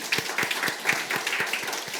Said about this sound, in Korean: 우리 감사의 마음으로 박수부터 한번 쳐볼까요?